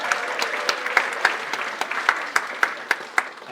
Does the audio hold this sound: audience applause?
yes